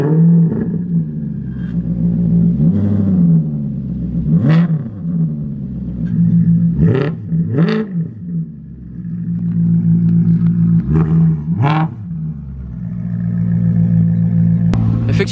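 An Alfa Romeo 8C engine revs repeatedly in sharp bursts over a steady idle rumble, with a brief click as the exhaust valves open; no talking.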